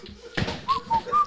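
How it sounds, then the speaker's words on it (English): A person whistles a long tune in short sustained notes, fairly close and clear, with background chatter and movement sounds from a lively group setting underneath. "That's a long whistle."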